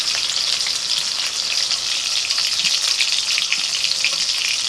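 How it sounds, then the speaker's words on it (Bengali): Spiced small fish frying in oil in a pan, a dense, steady sizzle running loud and close throughout with crackling pops and no talk. "এই মশলা মাখানো মাছ একটু কড়া করে ভাজতে হবে।"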